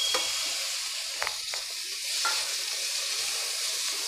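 Sliced onion, cabbage and tomato sautéing for masala noodles, a soft steady sizzle with a few brief scrapes of a spatula in the pan, fairly quiet and without speech.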